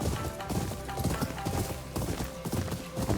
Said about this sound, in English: That horse just bolted, too.